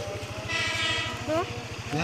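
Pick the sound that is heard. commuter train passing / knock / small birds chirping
commuter train passing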